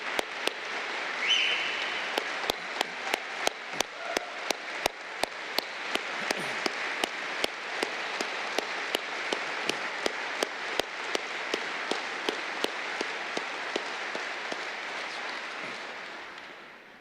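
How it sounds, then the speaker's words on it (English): An audience at a Vietnam veterans pinning ceremony applauds a Medal of Honor recipient, with dense, sustained clapping from a crowd lasting the whole stretch and fading slightly at the end. "we'd like to give him another round of applause"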